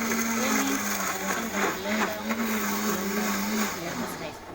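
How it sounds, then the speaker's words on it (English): A blender whirs loudly while chopping up cucumber pieces for juice, a steady roaring motor with a churning, slightly pulsing grind as the chunks break down, close up and continuous. "put them all like that, and blend away"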